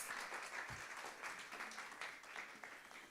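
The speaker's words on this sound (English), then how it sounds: "Can we give her another round of applause" Audience at a seminar breaks into a steady round of applause, many hands clapping at once in a continuous, fairly distant wash of sound that holds for the whole stretch.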